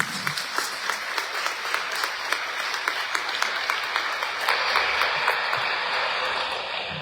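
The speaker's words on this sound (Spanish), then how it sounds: "Démosle un fuerte aplauso a la palabra de Dios." A church congregation at Sunday Mass gives a sustained round of applause, with dense clapping filling the hall and holding steady throughout.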